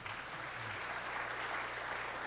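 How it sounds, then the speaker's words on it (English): Audience applause for a school senior choir at a college prizegiving ceremony, a steady dense wash of clapping that holds evenly throughout the clip. "Please give them that round of applause."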